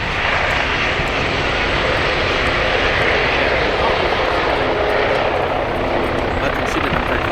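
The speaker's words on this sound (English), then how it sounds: "Port final for the single Cessna" A single-engine Cessna light aircraft on final approach at Gloucester Airport gives a steady, loud propeller drone throughout, with radio-style talk heard over it.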